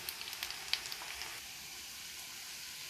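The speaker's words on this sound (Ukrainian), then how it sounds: "Але нічого, вон так гарно смажиться." Soft steady sizzling of onion fritters frying in a pan, with a few faint pops and crackles early on, no voices.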